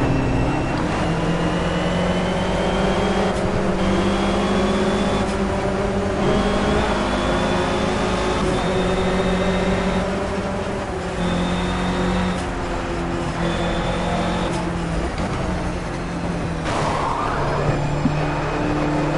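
Race car engine held at half throttle in the Project Cars racing game, a steady droning motor tone that rises and dips slightly in pitch while running continuously for the whole stretch, loud and alone.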